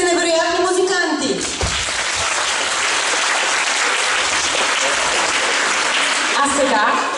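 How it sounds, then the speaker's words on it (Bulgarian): Enthusiastic applause from a concert audience for musicians at a 2018 Christmas concert by a high school in Vidin, a dense steady roar of clapping that sweeps in after a fading musical chord and holds loud through to the end. "Аплодисменти за тези невероятни музиканти!"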